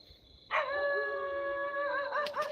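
A dog in a cemetery at night lets out a single drawn-out howling yowl with a strained, tonal quality, fairly close and alone against a quiet background.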